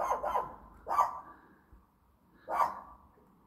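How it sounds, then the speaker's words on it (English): A neighbour's dog barking next door in a residential area, three separate sharp barks spaced apart, moderately loud and with no talking over them. "Obviously, the neighbour's dog to the right is barking."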